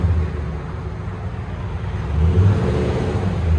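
Toyota Tundra 5.7L V8 fitted with a Flowmaster Super 40 exhaust, revving with a deep, rumbling throttle that swells louder toward the end, heard close and alone.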